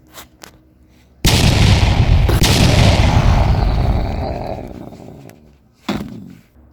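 Toy gun shooting effects in a LEGO minifilm, a loud sudden blast that roars for about three seconds and slowly fades, then a shorter sharp burst, close and with no talk.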